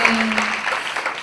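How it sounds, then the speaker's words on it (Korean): A church congregation at a college worship service applauds together in a brief, full burst of clapping over a steady sustained tone. "우리 감사와 찬양과 영광의 큰 박수 올려드리기를 원합니다"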